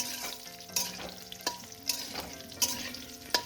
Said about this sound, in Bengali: এবার আলুটাকে ভালো করে লাল লাল করে একটু ভেজে নেব ফোড়নের সাথে